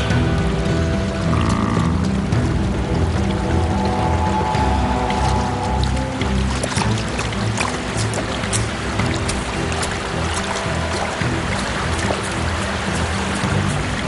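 A strong river current rushes steadily, a loud, broadband flow of churning water with no pauses and no voices.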